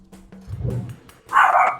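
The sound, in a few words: dog barking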